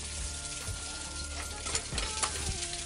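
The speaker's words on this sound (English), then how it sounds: "I got my tilapia, it's a whole fish. It's in there cooking, as you can see." A whole tilapia fries in a pan with cut vegetables, sizzling steadily with intermittent stirring scrapes and crackles close at hand, with no speech.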